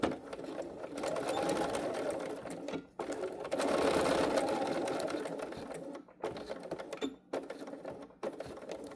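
Sewing machine stitching a seam at a 2.5 stitch length, running in steady bursts of rapid mechanical whirring with short pauses between runs, close and alone.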